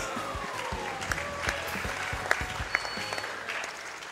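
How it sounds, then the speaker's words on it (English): A small audience at a speedrunning marathon claps steadily at moderate volume, a continuous patter of hands with a few sharper claps standing out. "You guys are clapping for Toad."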